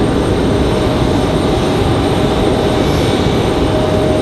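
A loud, steady jet airliner engine roar on departure from Raleigh-Durham International Airport holds constant throughout, broad and rushing with a faint tonal whine, no talking.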